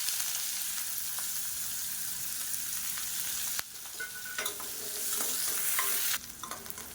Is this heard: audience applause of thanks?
no